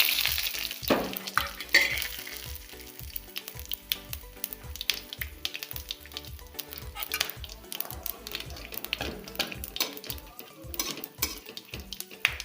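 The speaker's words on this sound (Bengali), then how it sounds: "ফোড়ন হিসেবে ব্যবহার করছি তেজপাতা, গোটা জিরা, এলাচ, দুটো শুকনো লঙ্কা এবং লং। এগুলো আমি তেলের মধ্যে দিয়ে দিচ্ছি।" Whole spices, bay leaf, cumin, cardamom, two dried chillies and cloves, crackle and sizzle in hot oil, with dense popping bursts and repeated metal stirring scrapes and clinks up close, no voices.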